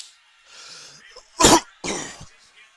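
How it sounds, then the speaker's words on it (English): Two sharp coughs from a person with hiccups, about half a second apart, loud and close, with quieter breathy throat noises before and after. "I got the hiccups and I'm coughing."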